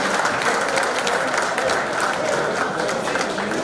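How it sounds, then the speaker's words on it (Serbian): An audience at a formal assembly of the Belgrade district applauds, with dense, steady clapping from many hands filling the space at close range throughout. "aplauz."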